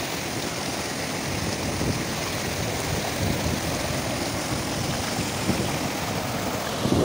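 Waterfall at Ramtirth temple near Naldurg, heard as a steady, dense roar of falling water that stays constant throughout, with no voices.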